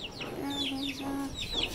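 Hens cluck in short bursts with a few higher chirps, fairly close, one drawn-out tone running briefly underneath.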